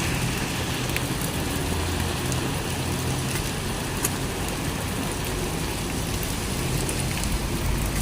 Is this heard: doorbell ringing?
no